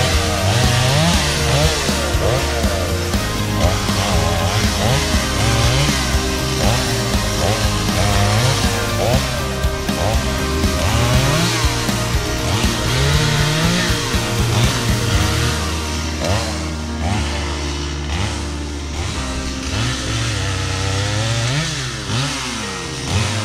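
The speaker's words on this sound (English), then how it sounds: "grab the chainsaw, cut these up into manageable size pieces" A chainsaw cuts up felled wood while land is being cleared, its engine loud and close and running nonstop, revving and bogging down again and again as the chain bites through logs.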